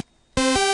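Reese bass tone built in FL Studio from two detuned saw oscillators, one at minus 15 and one at plus 15, entering abruptly after a short silence and sustaining loud and buzzing with a steady harmonic drone.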